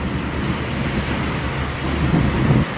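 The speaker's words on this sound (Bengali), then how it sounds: "আকাশে প্রচুর ডাকতেছে" Thunder rumbles low and continuous through a rainstorm in South Africa, with steady rain hiss throughout and the rumble swelling slightly toward the end.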